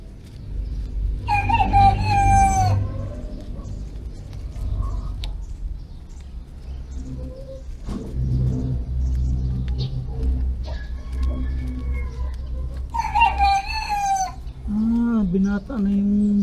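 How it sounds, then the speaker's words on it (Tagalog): A young farm rooster crows in short, rising calls repeated a few times, loud and near, with other chickens clucking and a person talking in the background. "Dati hindi marunong tumilaok, ngayon natilaok na."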